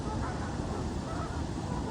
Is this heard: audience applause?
no